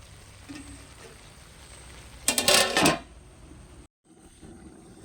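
Country chicken cooking in coconut oil in a metal pan is stirred, producing a short burst of loud clattering scrapes, followed by a lid being set down before the quiet kitchen background returns.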